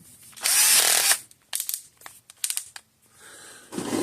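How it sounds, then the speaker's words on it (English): A power drill whines in short, loud bursts while drilling off a rusted, spinning bolt head on a Parmak Magnum 12 electric fence charger, with cutting oil applied, starting and stopping several times. "drill the head off, I guess."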